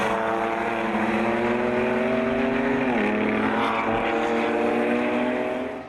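A loud, continuous roar of BMW race cars on track, multiple engines overlapping nearby, one note sweeping down mid-clip as a car shifts or passes by.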